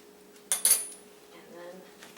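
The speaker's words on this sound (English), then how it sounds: "And split it in half with a fork." A fork splitting a fluffy biscuit in half on a plate: a brief close scrape and clink of metal on the dish, then faint soft rustling.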